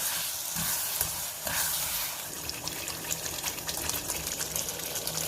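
Milk cake mixture of milk, sugar and cream cooks in a pan, giving a steady close sizzle with bubbling, stirring scrapes and watery gurgles throughout, with no voices.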